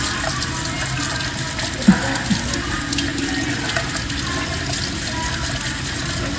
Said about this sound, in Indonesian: waktunya cuci muka